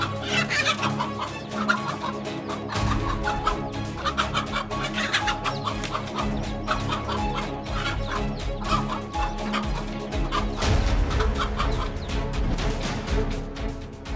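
A mother hen clucks repeatedly while guarding her chicks from a predator, the steady, agitated clucking close and loud amid a busy farmyard background, with no speech.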